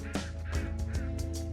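Ducks and geese calling at a farm pond in winter, a run of nasal honks and quacks repeating about every 0.3 seconds, loud and close with no talk.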